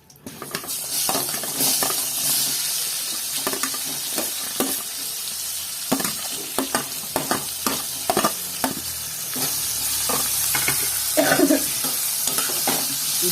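Sliced onions frying in oil in a pan for a stuffed-chilli bajji masala curry, heard as a loud continuous sizzle with frequent scraping and clinking stirring strokes, close up and without talk.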